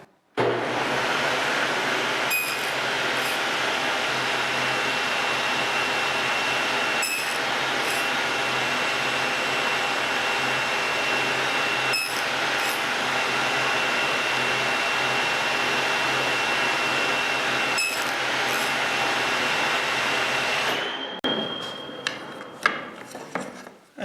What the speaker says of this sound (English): Now I'll run it through the saw.